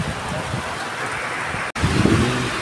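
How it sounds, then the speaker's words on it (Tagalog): Steady rain falls in a Philippine street scene with a tricycle nearby, a dense even hiss throughout with low rumbling traffic beneath and a brief dropout. "Ulan."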